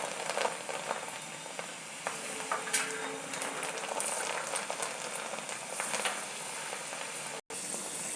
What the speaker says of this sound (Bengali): এবার আমি ডালটা ভেজে নেব।